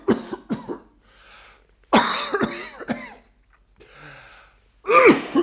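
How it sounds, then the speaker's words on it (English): Several harsh, near coughs and wheezing gasps in bursts across an audiobook reading of The Cask of Amontillado, separated by short quiet gaps, with no speech over them. "How long have you had that cough?"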